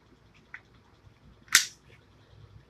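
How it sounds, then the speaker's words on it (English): A Glock 30S pistol seats into a Glock 17 holster with one sharp, crisp click, near and fairly loud, preceded by a fainter small tap and followed by quiet handling. "Heard that tactile click?"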